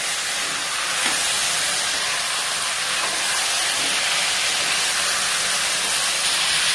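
Chopped tomatoes frying in a pan for bottle gourd rice give off a steady, loud sizzle and hiss that continues without a break, close up and alone.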